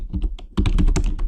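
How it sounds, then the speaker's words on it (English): Rapid, uneven keystrokes on a computer keyboard while entering code variables, growing louder and denser halfway through, close and alone with no talking. "And I'm typing them this way"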